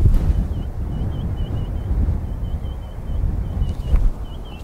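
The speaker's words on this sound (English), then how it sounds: "Oh, it's so windy, guys." Strong wind buffets the microphone outdoors, a continuous low roaring rumble with gusty swells. Faint thin chirps repeat in the background.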